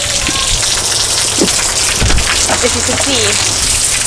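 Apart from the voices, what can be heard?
heavy rain downpour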